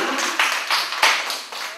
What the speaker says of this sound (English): Let's clap for the kangaroo.